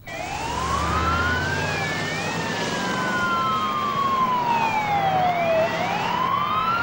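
A wailing ambulance siren sweeps steadily up and down, loud and continuous throughout, with traffic rumble underneath.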